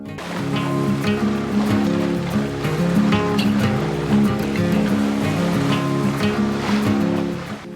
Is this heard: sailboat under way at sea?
yes